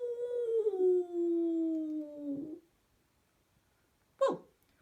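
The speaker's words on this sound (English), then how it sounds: "They began to whine and howl and refused to move." Dogs howl and whine: one long, drawn-out howl slides downward in pitch and fades, then after a short silence comes a brief sharp yelp. Both sound close and clear, with no talking.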